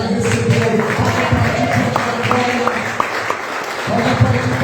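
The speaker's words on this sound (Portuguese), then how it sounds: "Pode aplaudir, pode dar glória a Deus." Church congregation applauding during a Wednesday evening worship service, a dense steady clapping that fills the whole moment, with voices speaking over it and a few sharper taps standing out.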